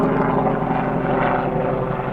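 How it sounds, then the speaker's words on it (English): A helicopter passes directly over a home, its rotor and engine making a loud, steady droning thrum with a rapid chopping pulse, close and continuous throughout with no talking. "There's a helicopter flying overhead."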